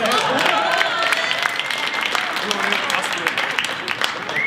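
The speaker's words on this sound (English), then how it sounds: "Can we have a little applause?" Applause at an awards banquet auction, moderately loud crowd clapping blended with chatter and voices throughout, steady and unbroken across the stretch.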